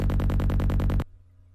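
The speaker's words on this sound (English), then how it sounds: "let's listen to the original bass first," A gritty, pulsing psytrance synth bass plays in a fast steady rhythm of rapid repeated notes, loud and upfront, then cuts off abruptly into near silence.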